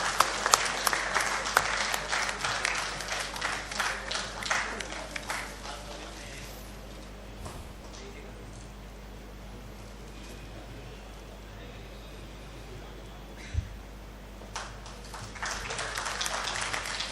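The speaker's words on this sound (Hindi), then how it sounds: "तालियों के साथ गूंज होनी चाहिए।" An audience at a mushaira and kavi sammelan poetry gathering applauds loudly for about six seconds, then the clapping fades into a quiet hall with faint room noise.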